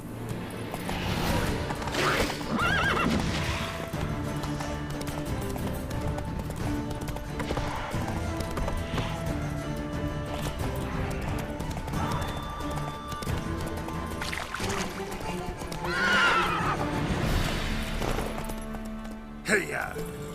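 Roach, a horse in The Witcher 3, gallops with steady clip-clop hoofbeats and occasional neighs, mixed with game music and ambient noise; a voice urges the horse on.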